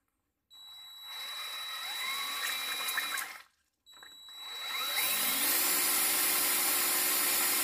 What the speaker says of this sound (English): So I'll attempt to spin this drill and see what happens.